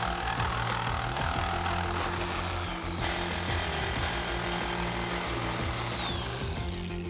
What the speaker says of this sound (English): For this one, we're going to use a Sawzall.